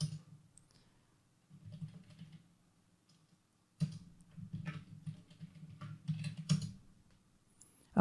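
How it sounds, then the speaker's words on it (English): Bursts of typing on a computer keyboard while entering a command on a Check Point management server, with short pauses between the runs of key clicks. The clicks are close and fairly quiet. "Here I'm going to type the command cpconfig"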